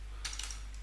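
A brief run of a few quick, crisp keystrokes on a computer keyboard, close and clear over a steady low electrical hum.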